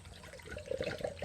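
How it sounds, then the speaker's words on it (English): Coolant leaking from the water pump of a Honda S600 engine, a close, irregular watery trickle and splash of liquid running on and off for about a second with no talking. "Bloody water pump's leaking."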